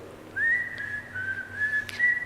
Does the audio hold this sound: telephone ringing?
no